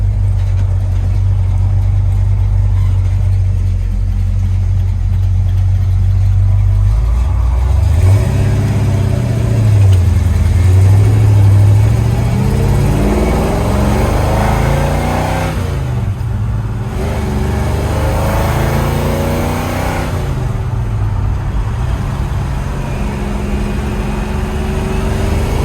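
A 1965 Ford Galaxie with Wilwood disc brakes running on the road, its big engine droning low and steady throughout, with throttle swells and revving midway and a couple of louder bursts near the end.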